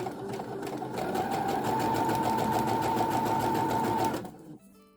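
A sewing machine runs steadily for about four seconds, stitching fold-over elastic onto fabric, before stopping abruptly. A faint mechanical hum follows at the end.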